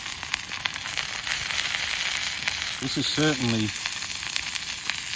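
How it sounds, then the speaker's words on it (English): Angus burger sizzling in a small frying pan on a camping burner outdoors, a steady hiss beneath a brief spoken word from someone nearby. "I might cook the Angus burger up first"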